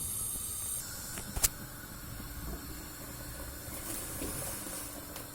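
Meat boils in a pot for xashlama, giving a steady close hiss with a soft simmering bubble underneath. One or two faint clicks break through, with no talk.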